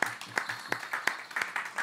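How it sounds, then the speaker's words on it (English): Hands clap to welcome a drummer at the end of a drum meditation session: sharp, closely spaced claps and hits arrive in an uneven, roughly rhythmic stream, loud and near, with no talking over them. "let's give Burl a big hand. You can drum him in or clap him in."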